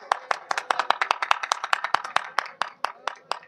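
Brisk clapping from an audience at a magic show, a steady run of sharp handclaps at a lively even pace, close and fairly loud, with no voices over it.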